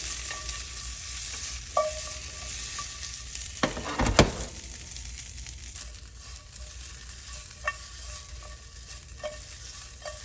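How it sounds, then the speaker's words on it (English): Asian-style meat pan-frying with a steady sizzle, broken by a loud clatter and whoosh around the middle as the pan is flipped and shaken, then settling back to frying with occasional scrapes and clicks; no talking. "So a little bit of a flip, give them a little bit of a shake."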